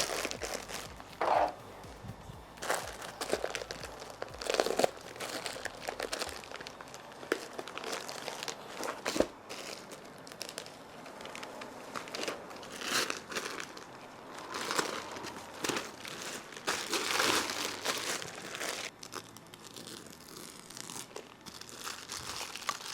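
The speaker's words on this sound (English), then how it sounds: "Just lightly scoring the plastic." Plastic wrapping on a boxed rooftop tent is scored with a cutter, giving a long run of crinkling, tearing and rustling plastic close by, with scattered sharp crackles and handling noise and no talk.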